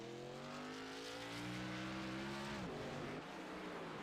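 Race car engines in a racing video game at Circuit de Gilles Villeneuve, a sustained high whine that rises in pitch as a car accelerates, then drops sharply around a turn before climbing again.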